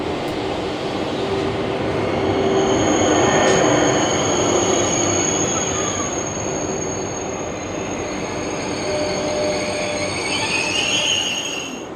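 A Eurostar high-speed electric train running on rails, a loud continuous rushing roar with sustained high wheel squeal and whining tones throughout, no voices.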